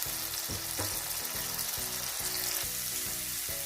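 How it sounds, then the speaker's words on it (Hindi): Onions frying in a pan for chicken handi give a steady, close sizzle with soft periodic scraping or stirring, with no talking. "फ्राई करेंगे जब तक कि प्याज हमारी थोड़ी सी ब्राउन ना हो जाए और ये कुक ना हो जाए।"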